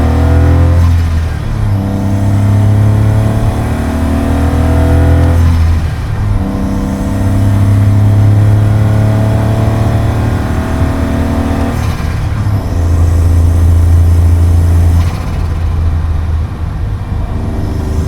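A Smart car engine fitted with a DNA Performance air filter revs loudly and steadily up close, rising and falling in several sustained pulls with brief dips between, heard alone without talk.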